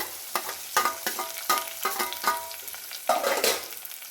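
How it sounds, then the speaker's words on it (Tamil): Onion and curry leaves with fennel and whole spices fry in hot oil for chicken curry, a bright crackling sizzle broken by repeated spoon scrapes and stirring knocks, close and fairly loud with no voices. "வெங்காயம் வதங்கட்டும்"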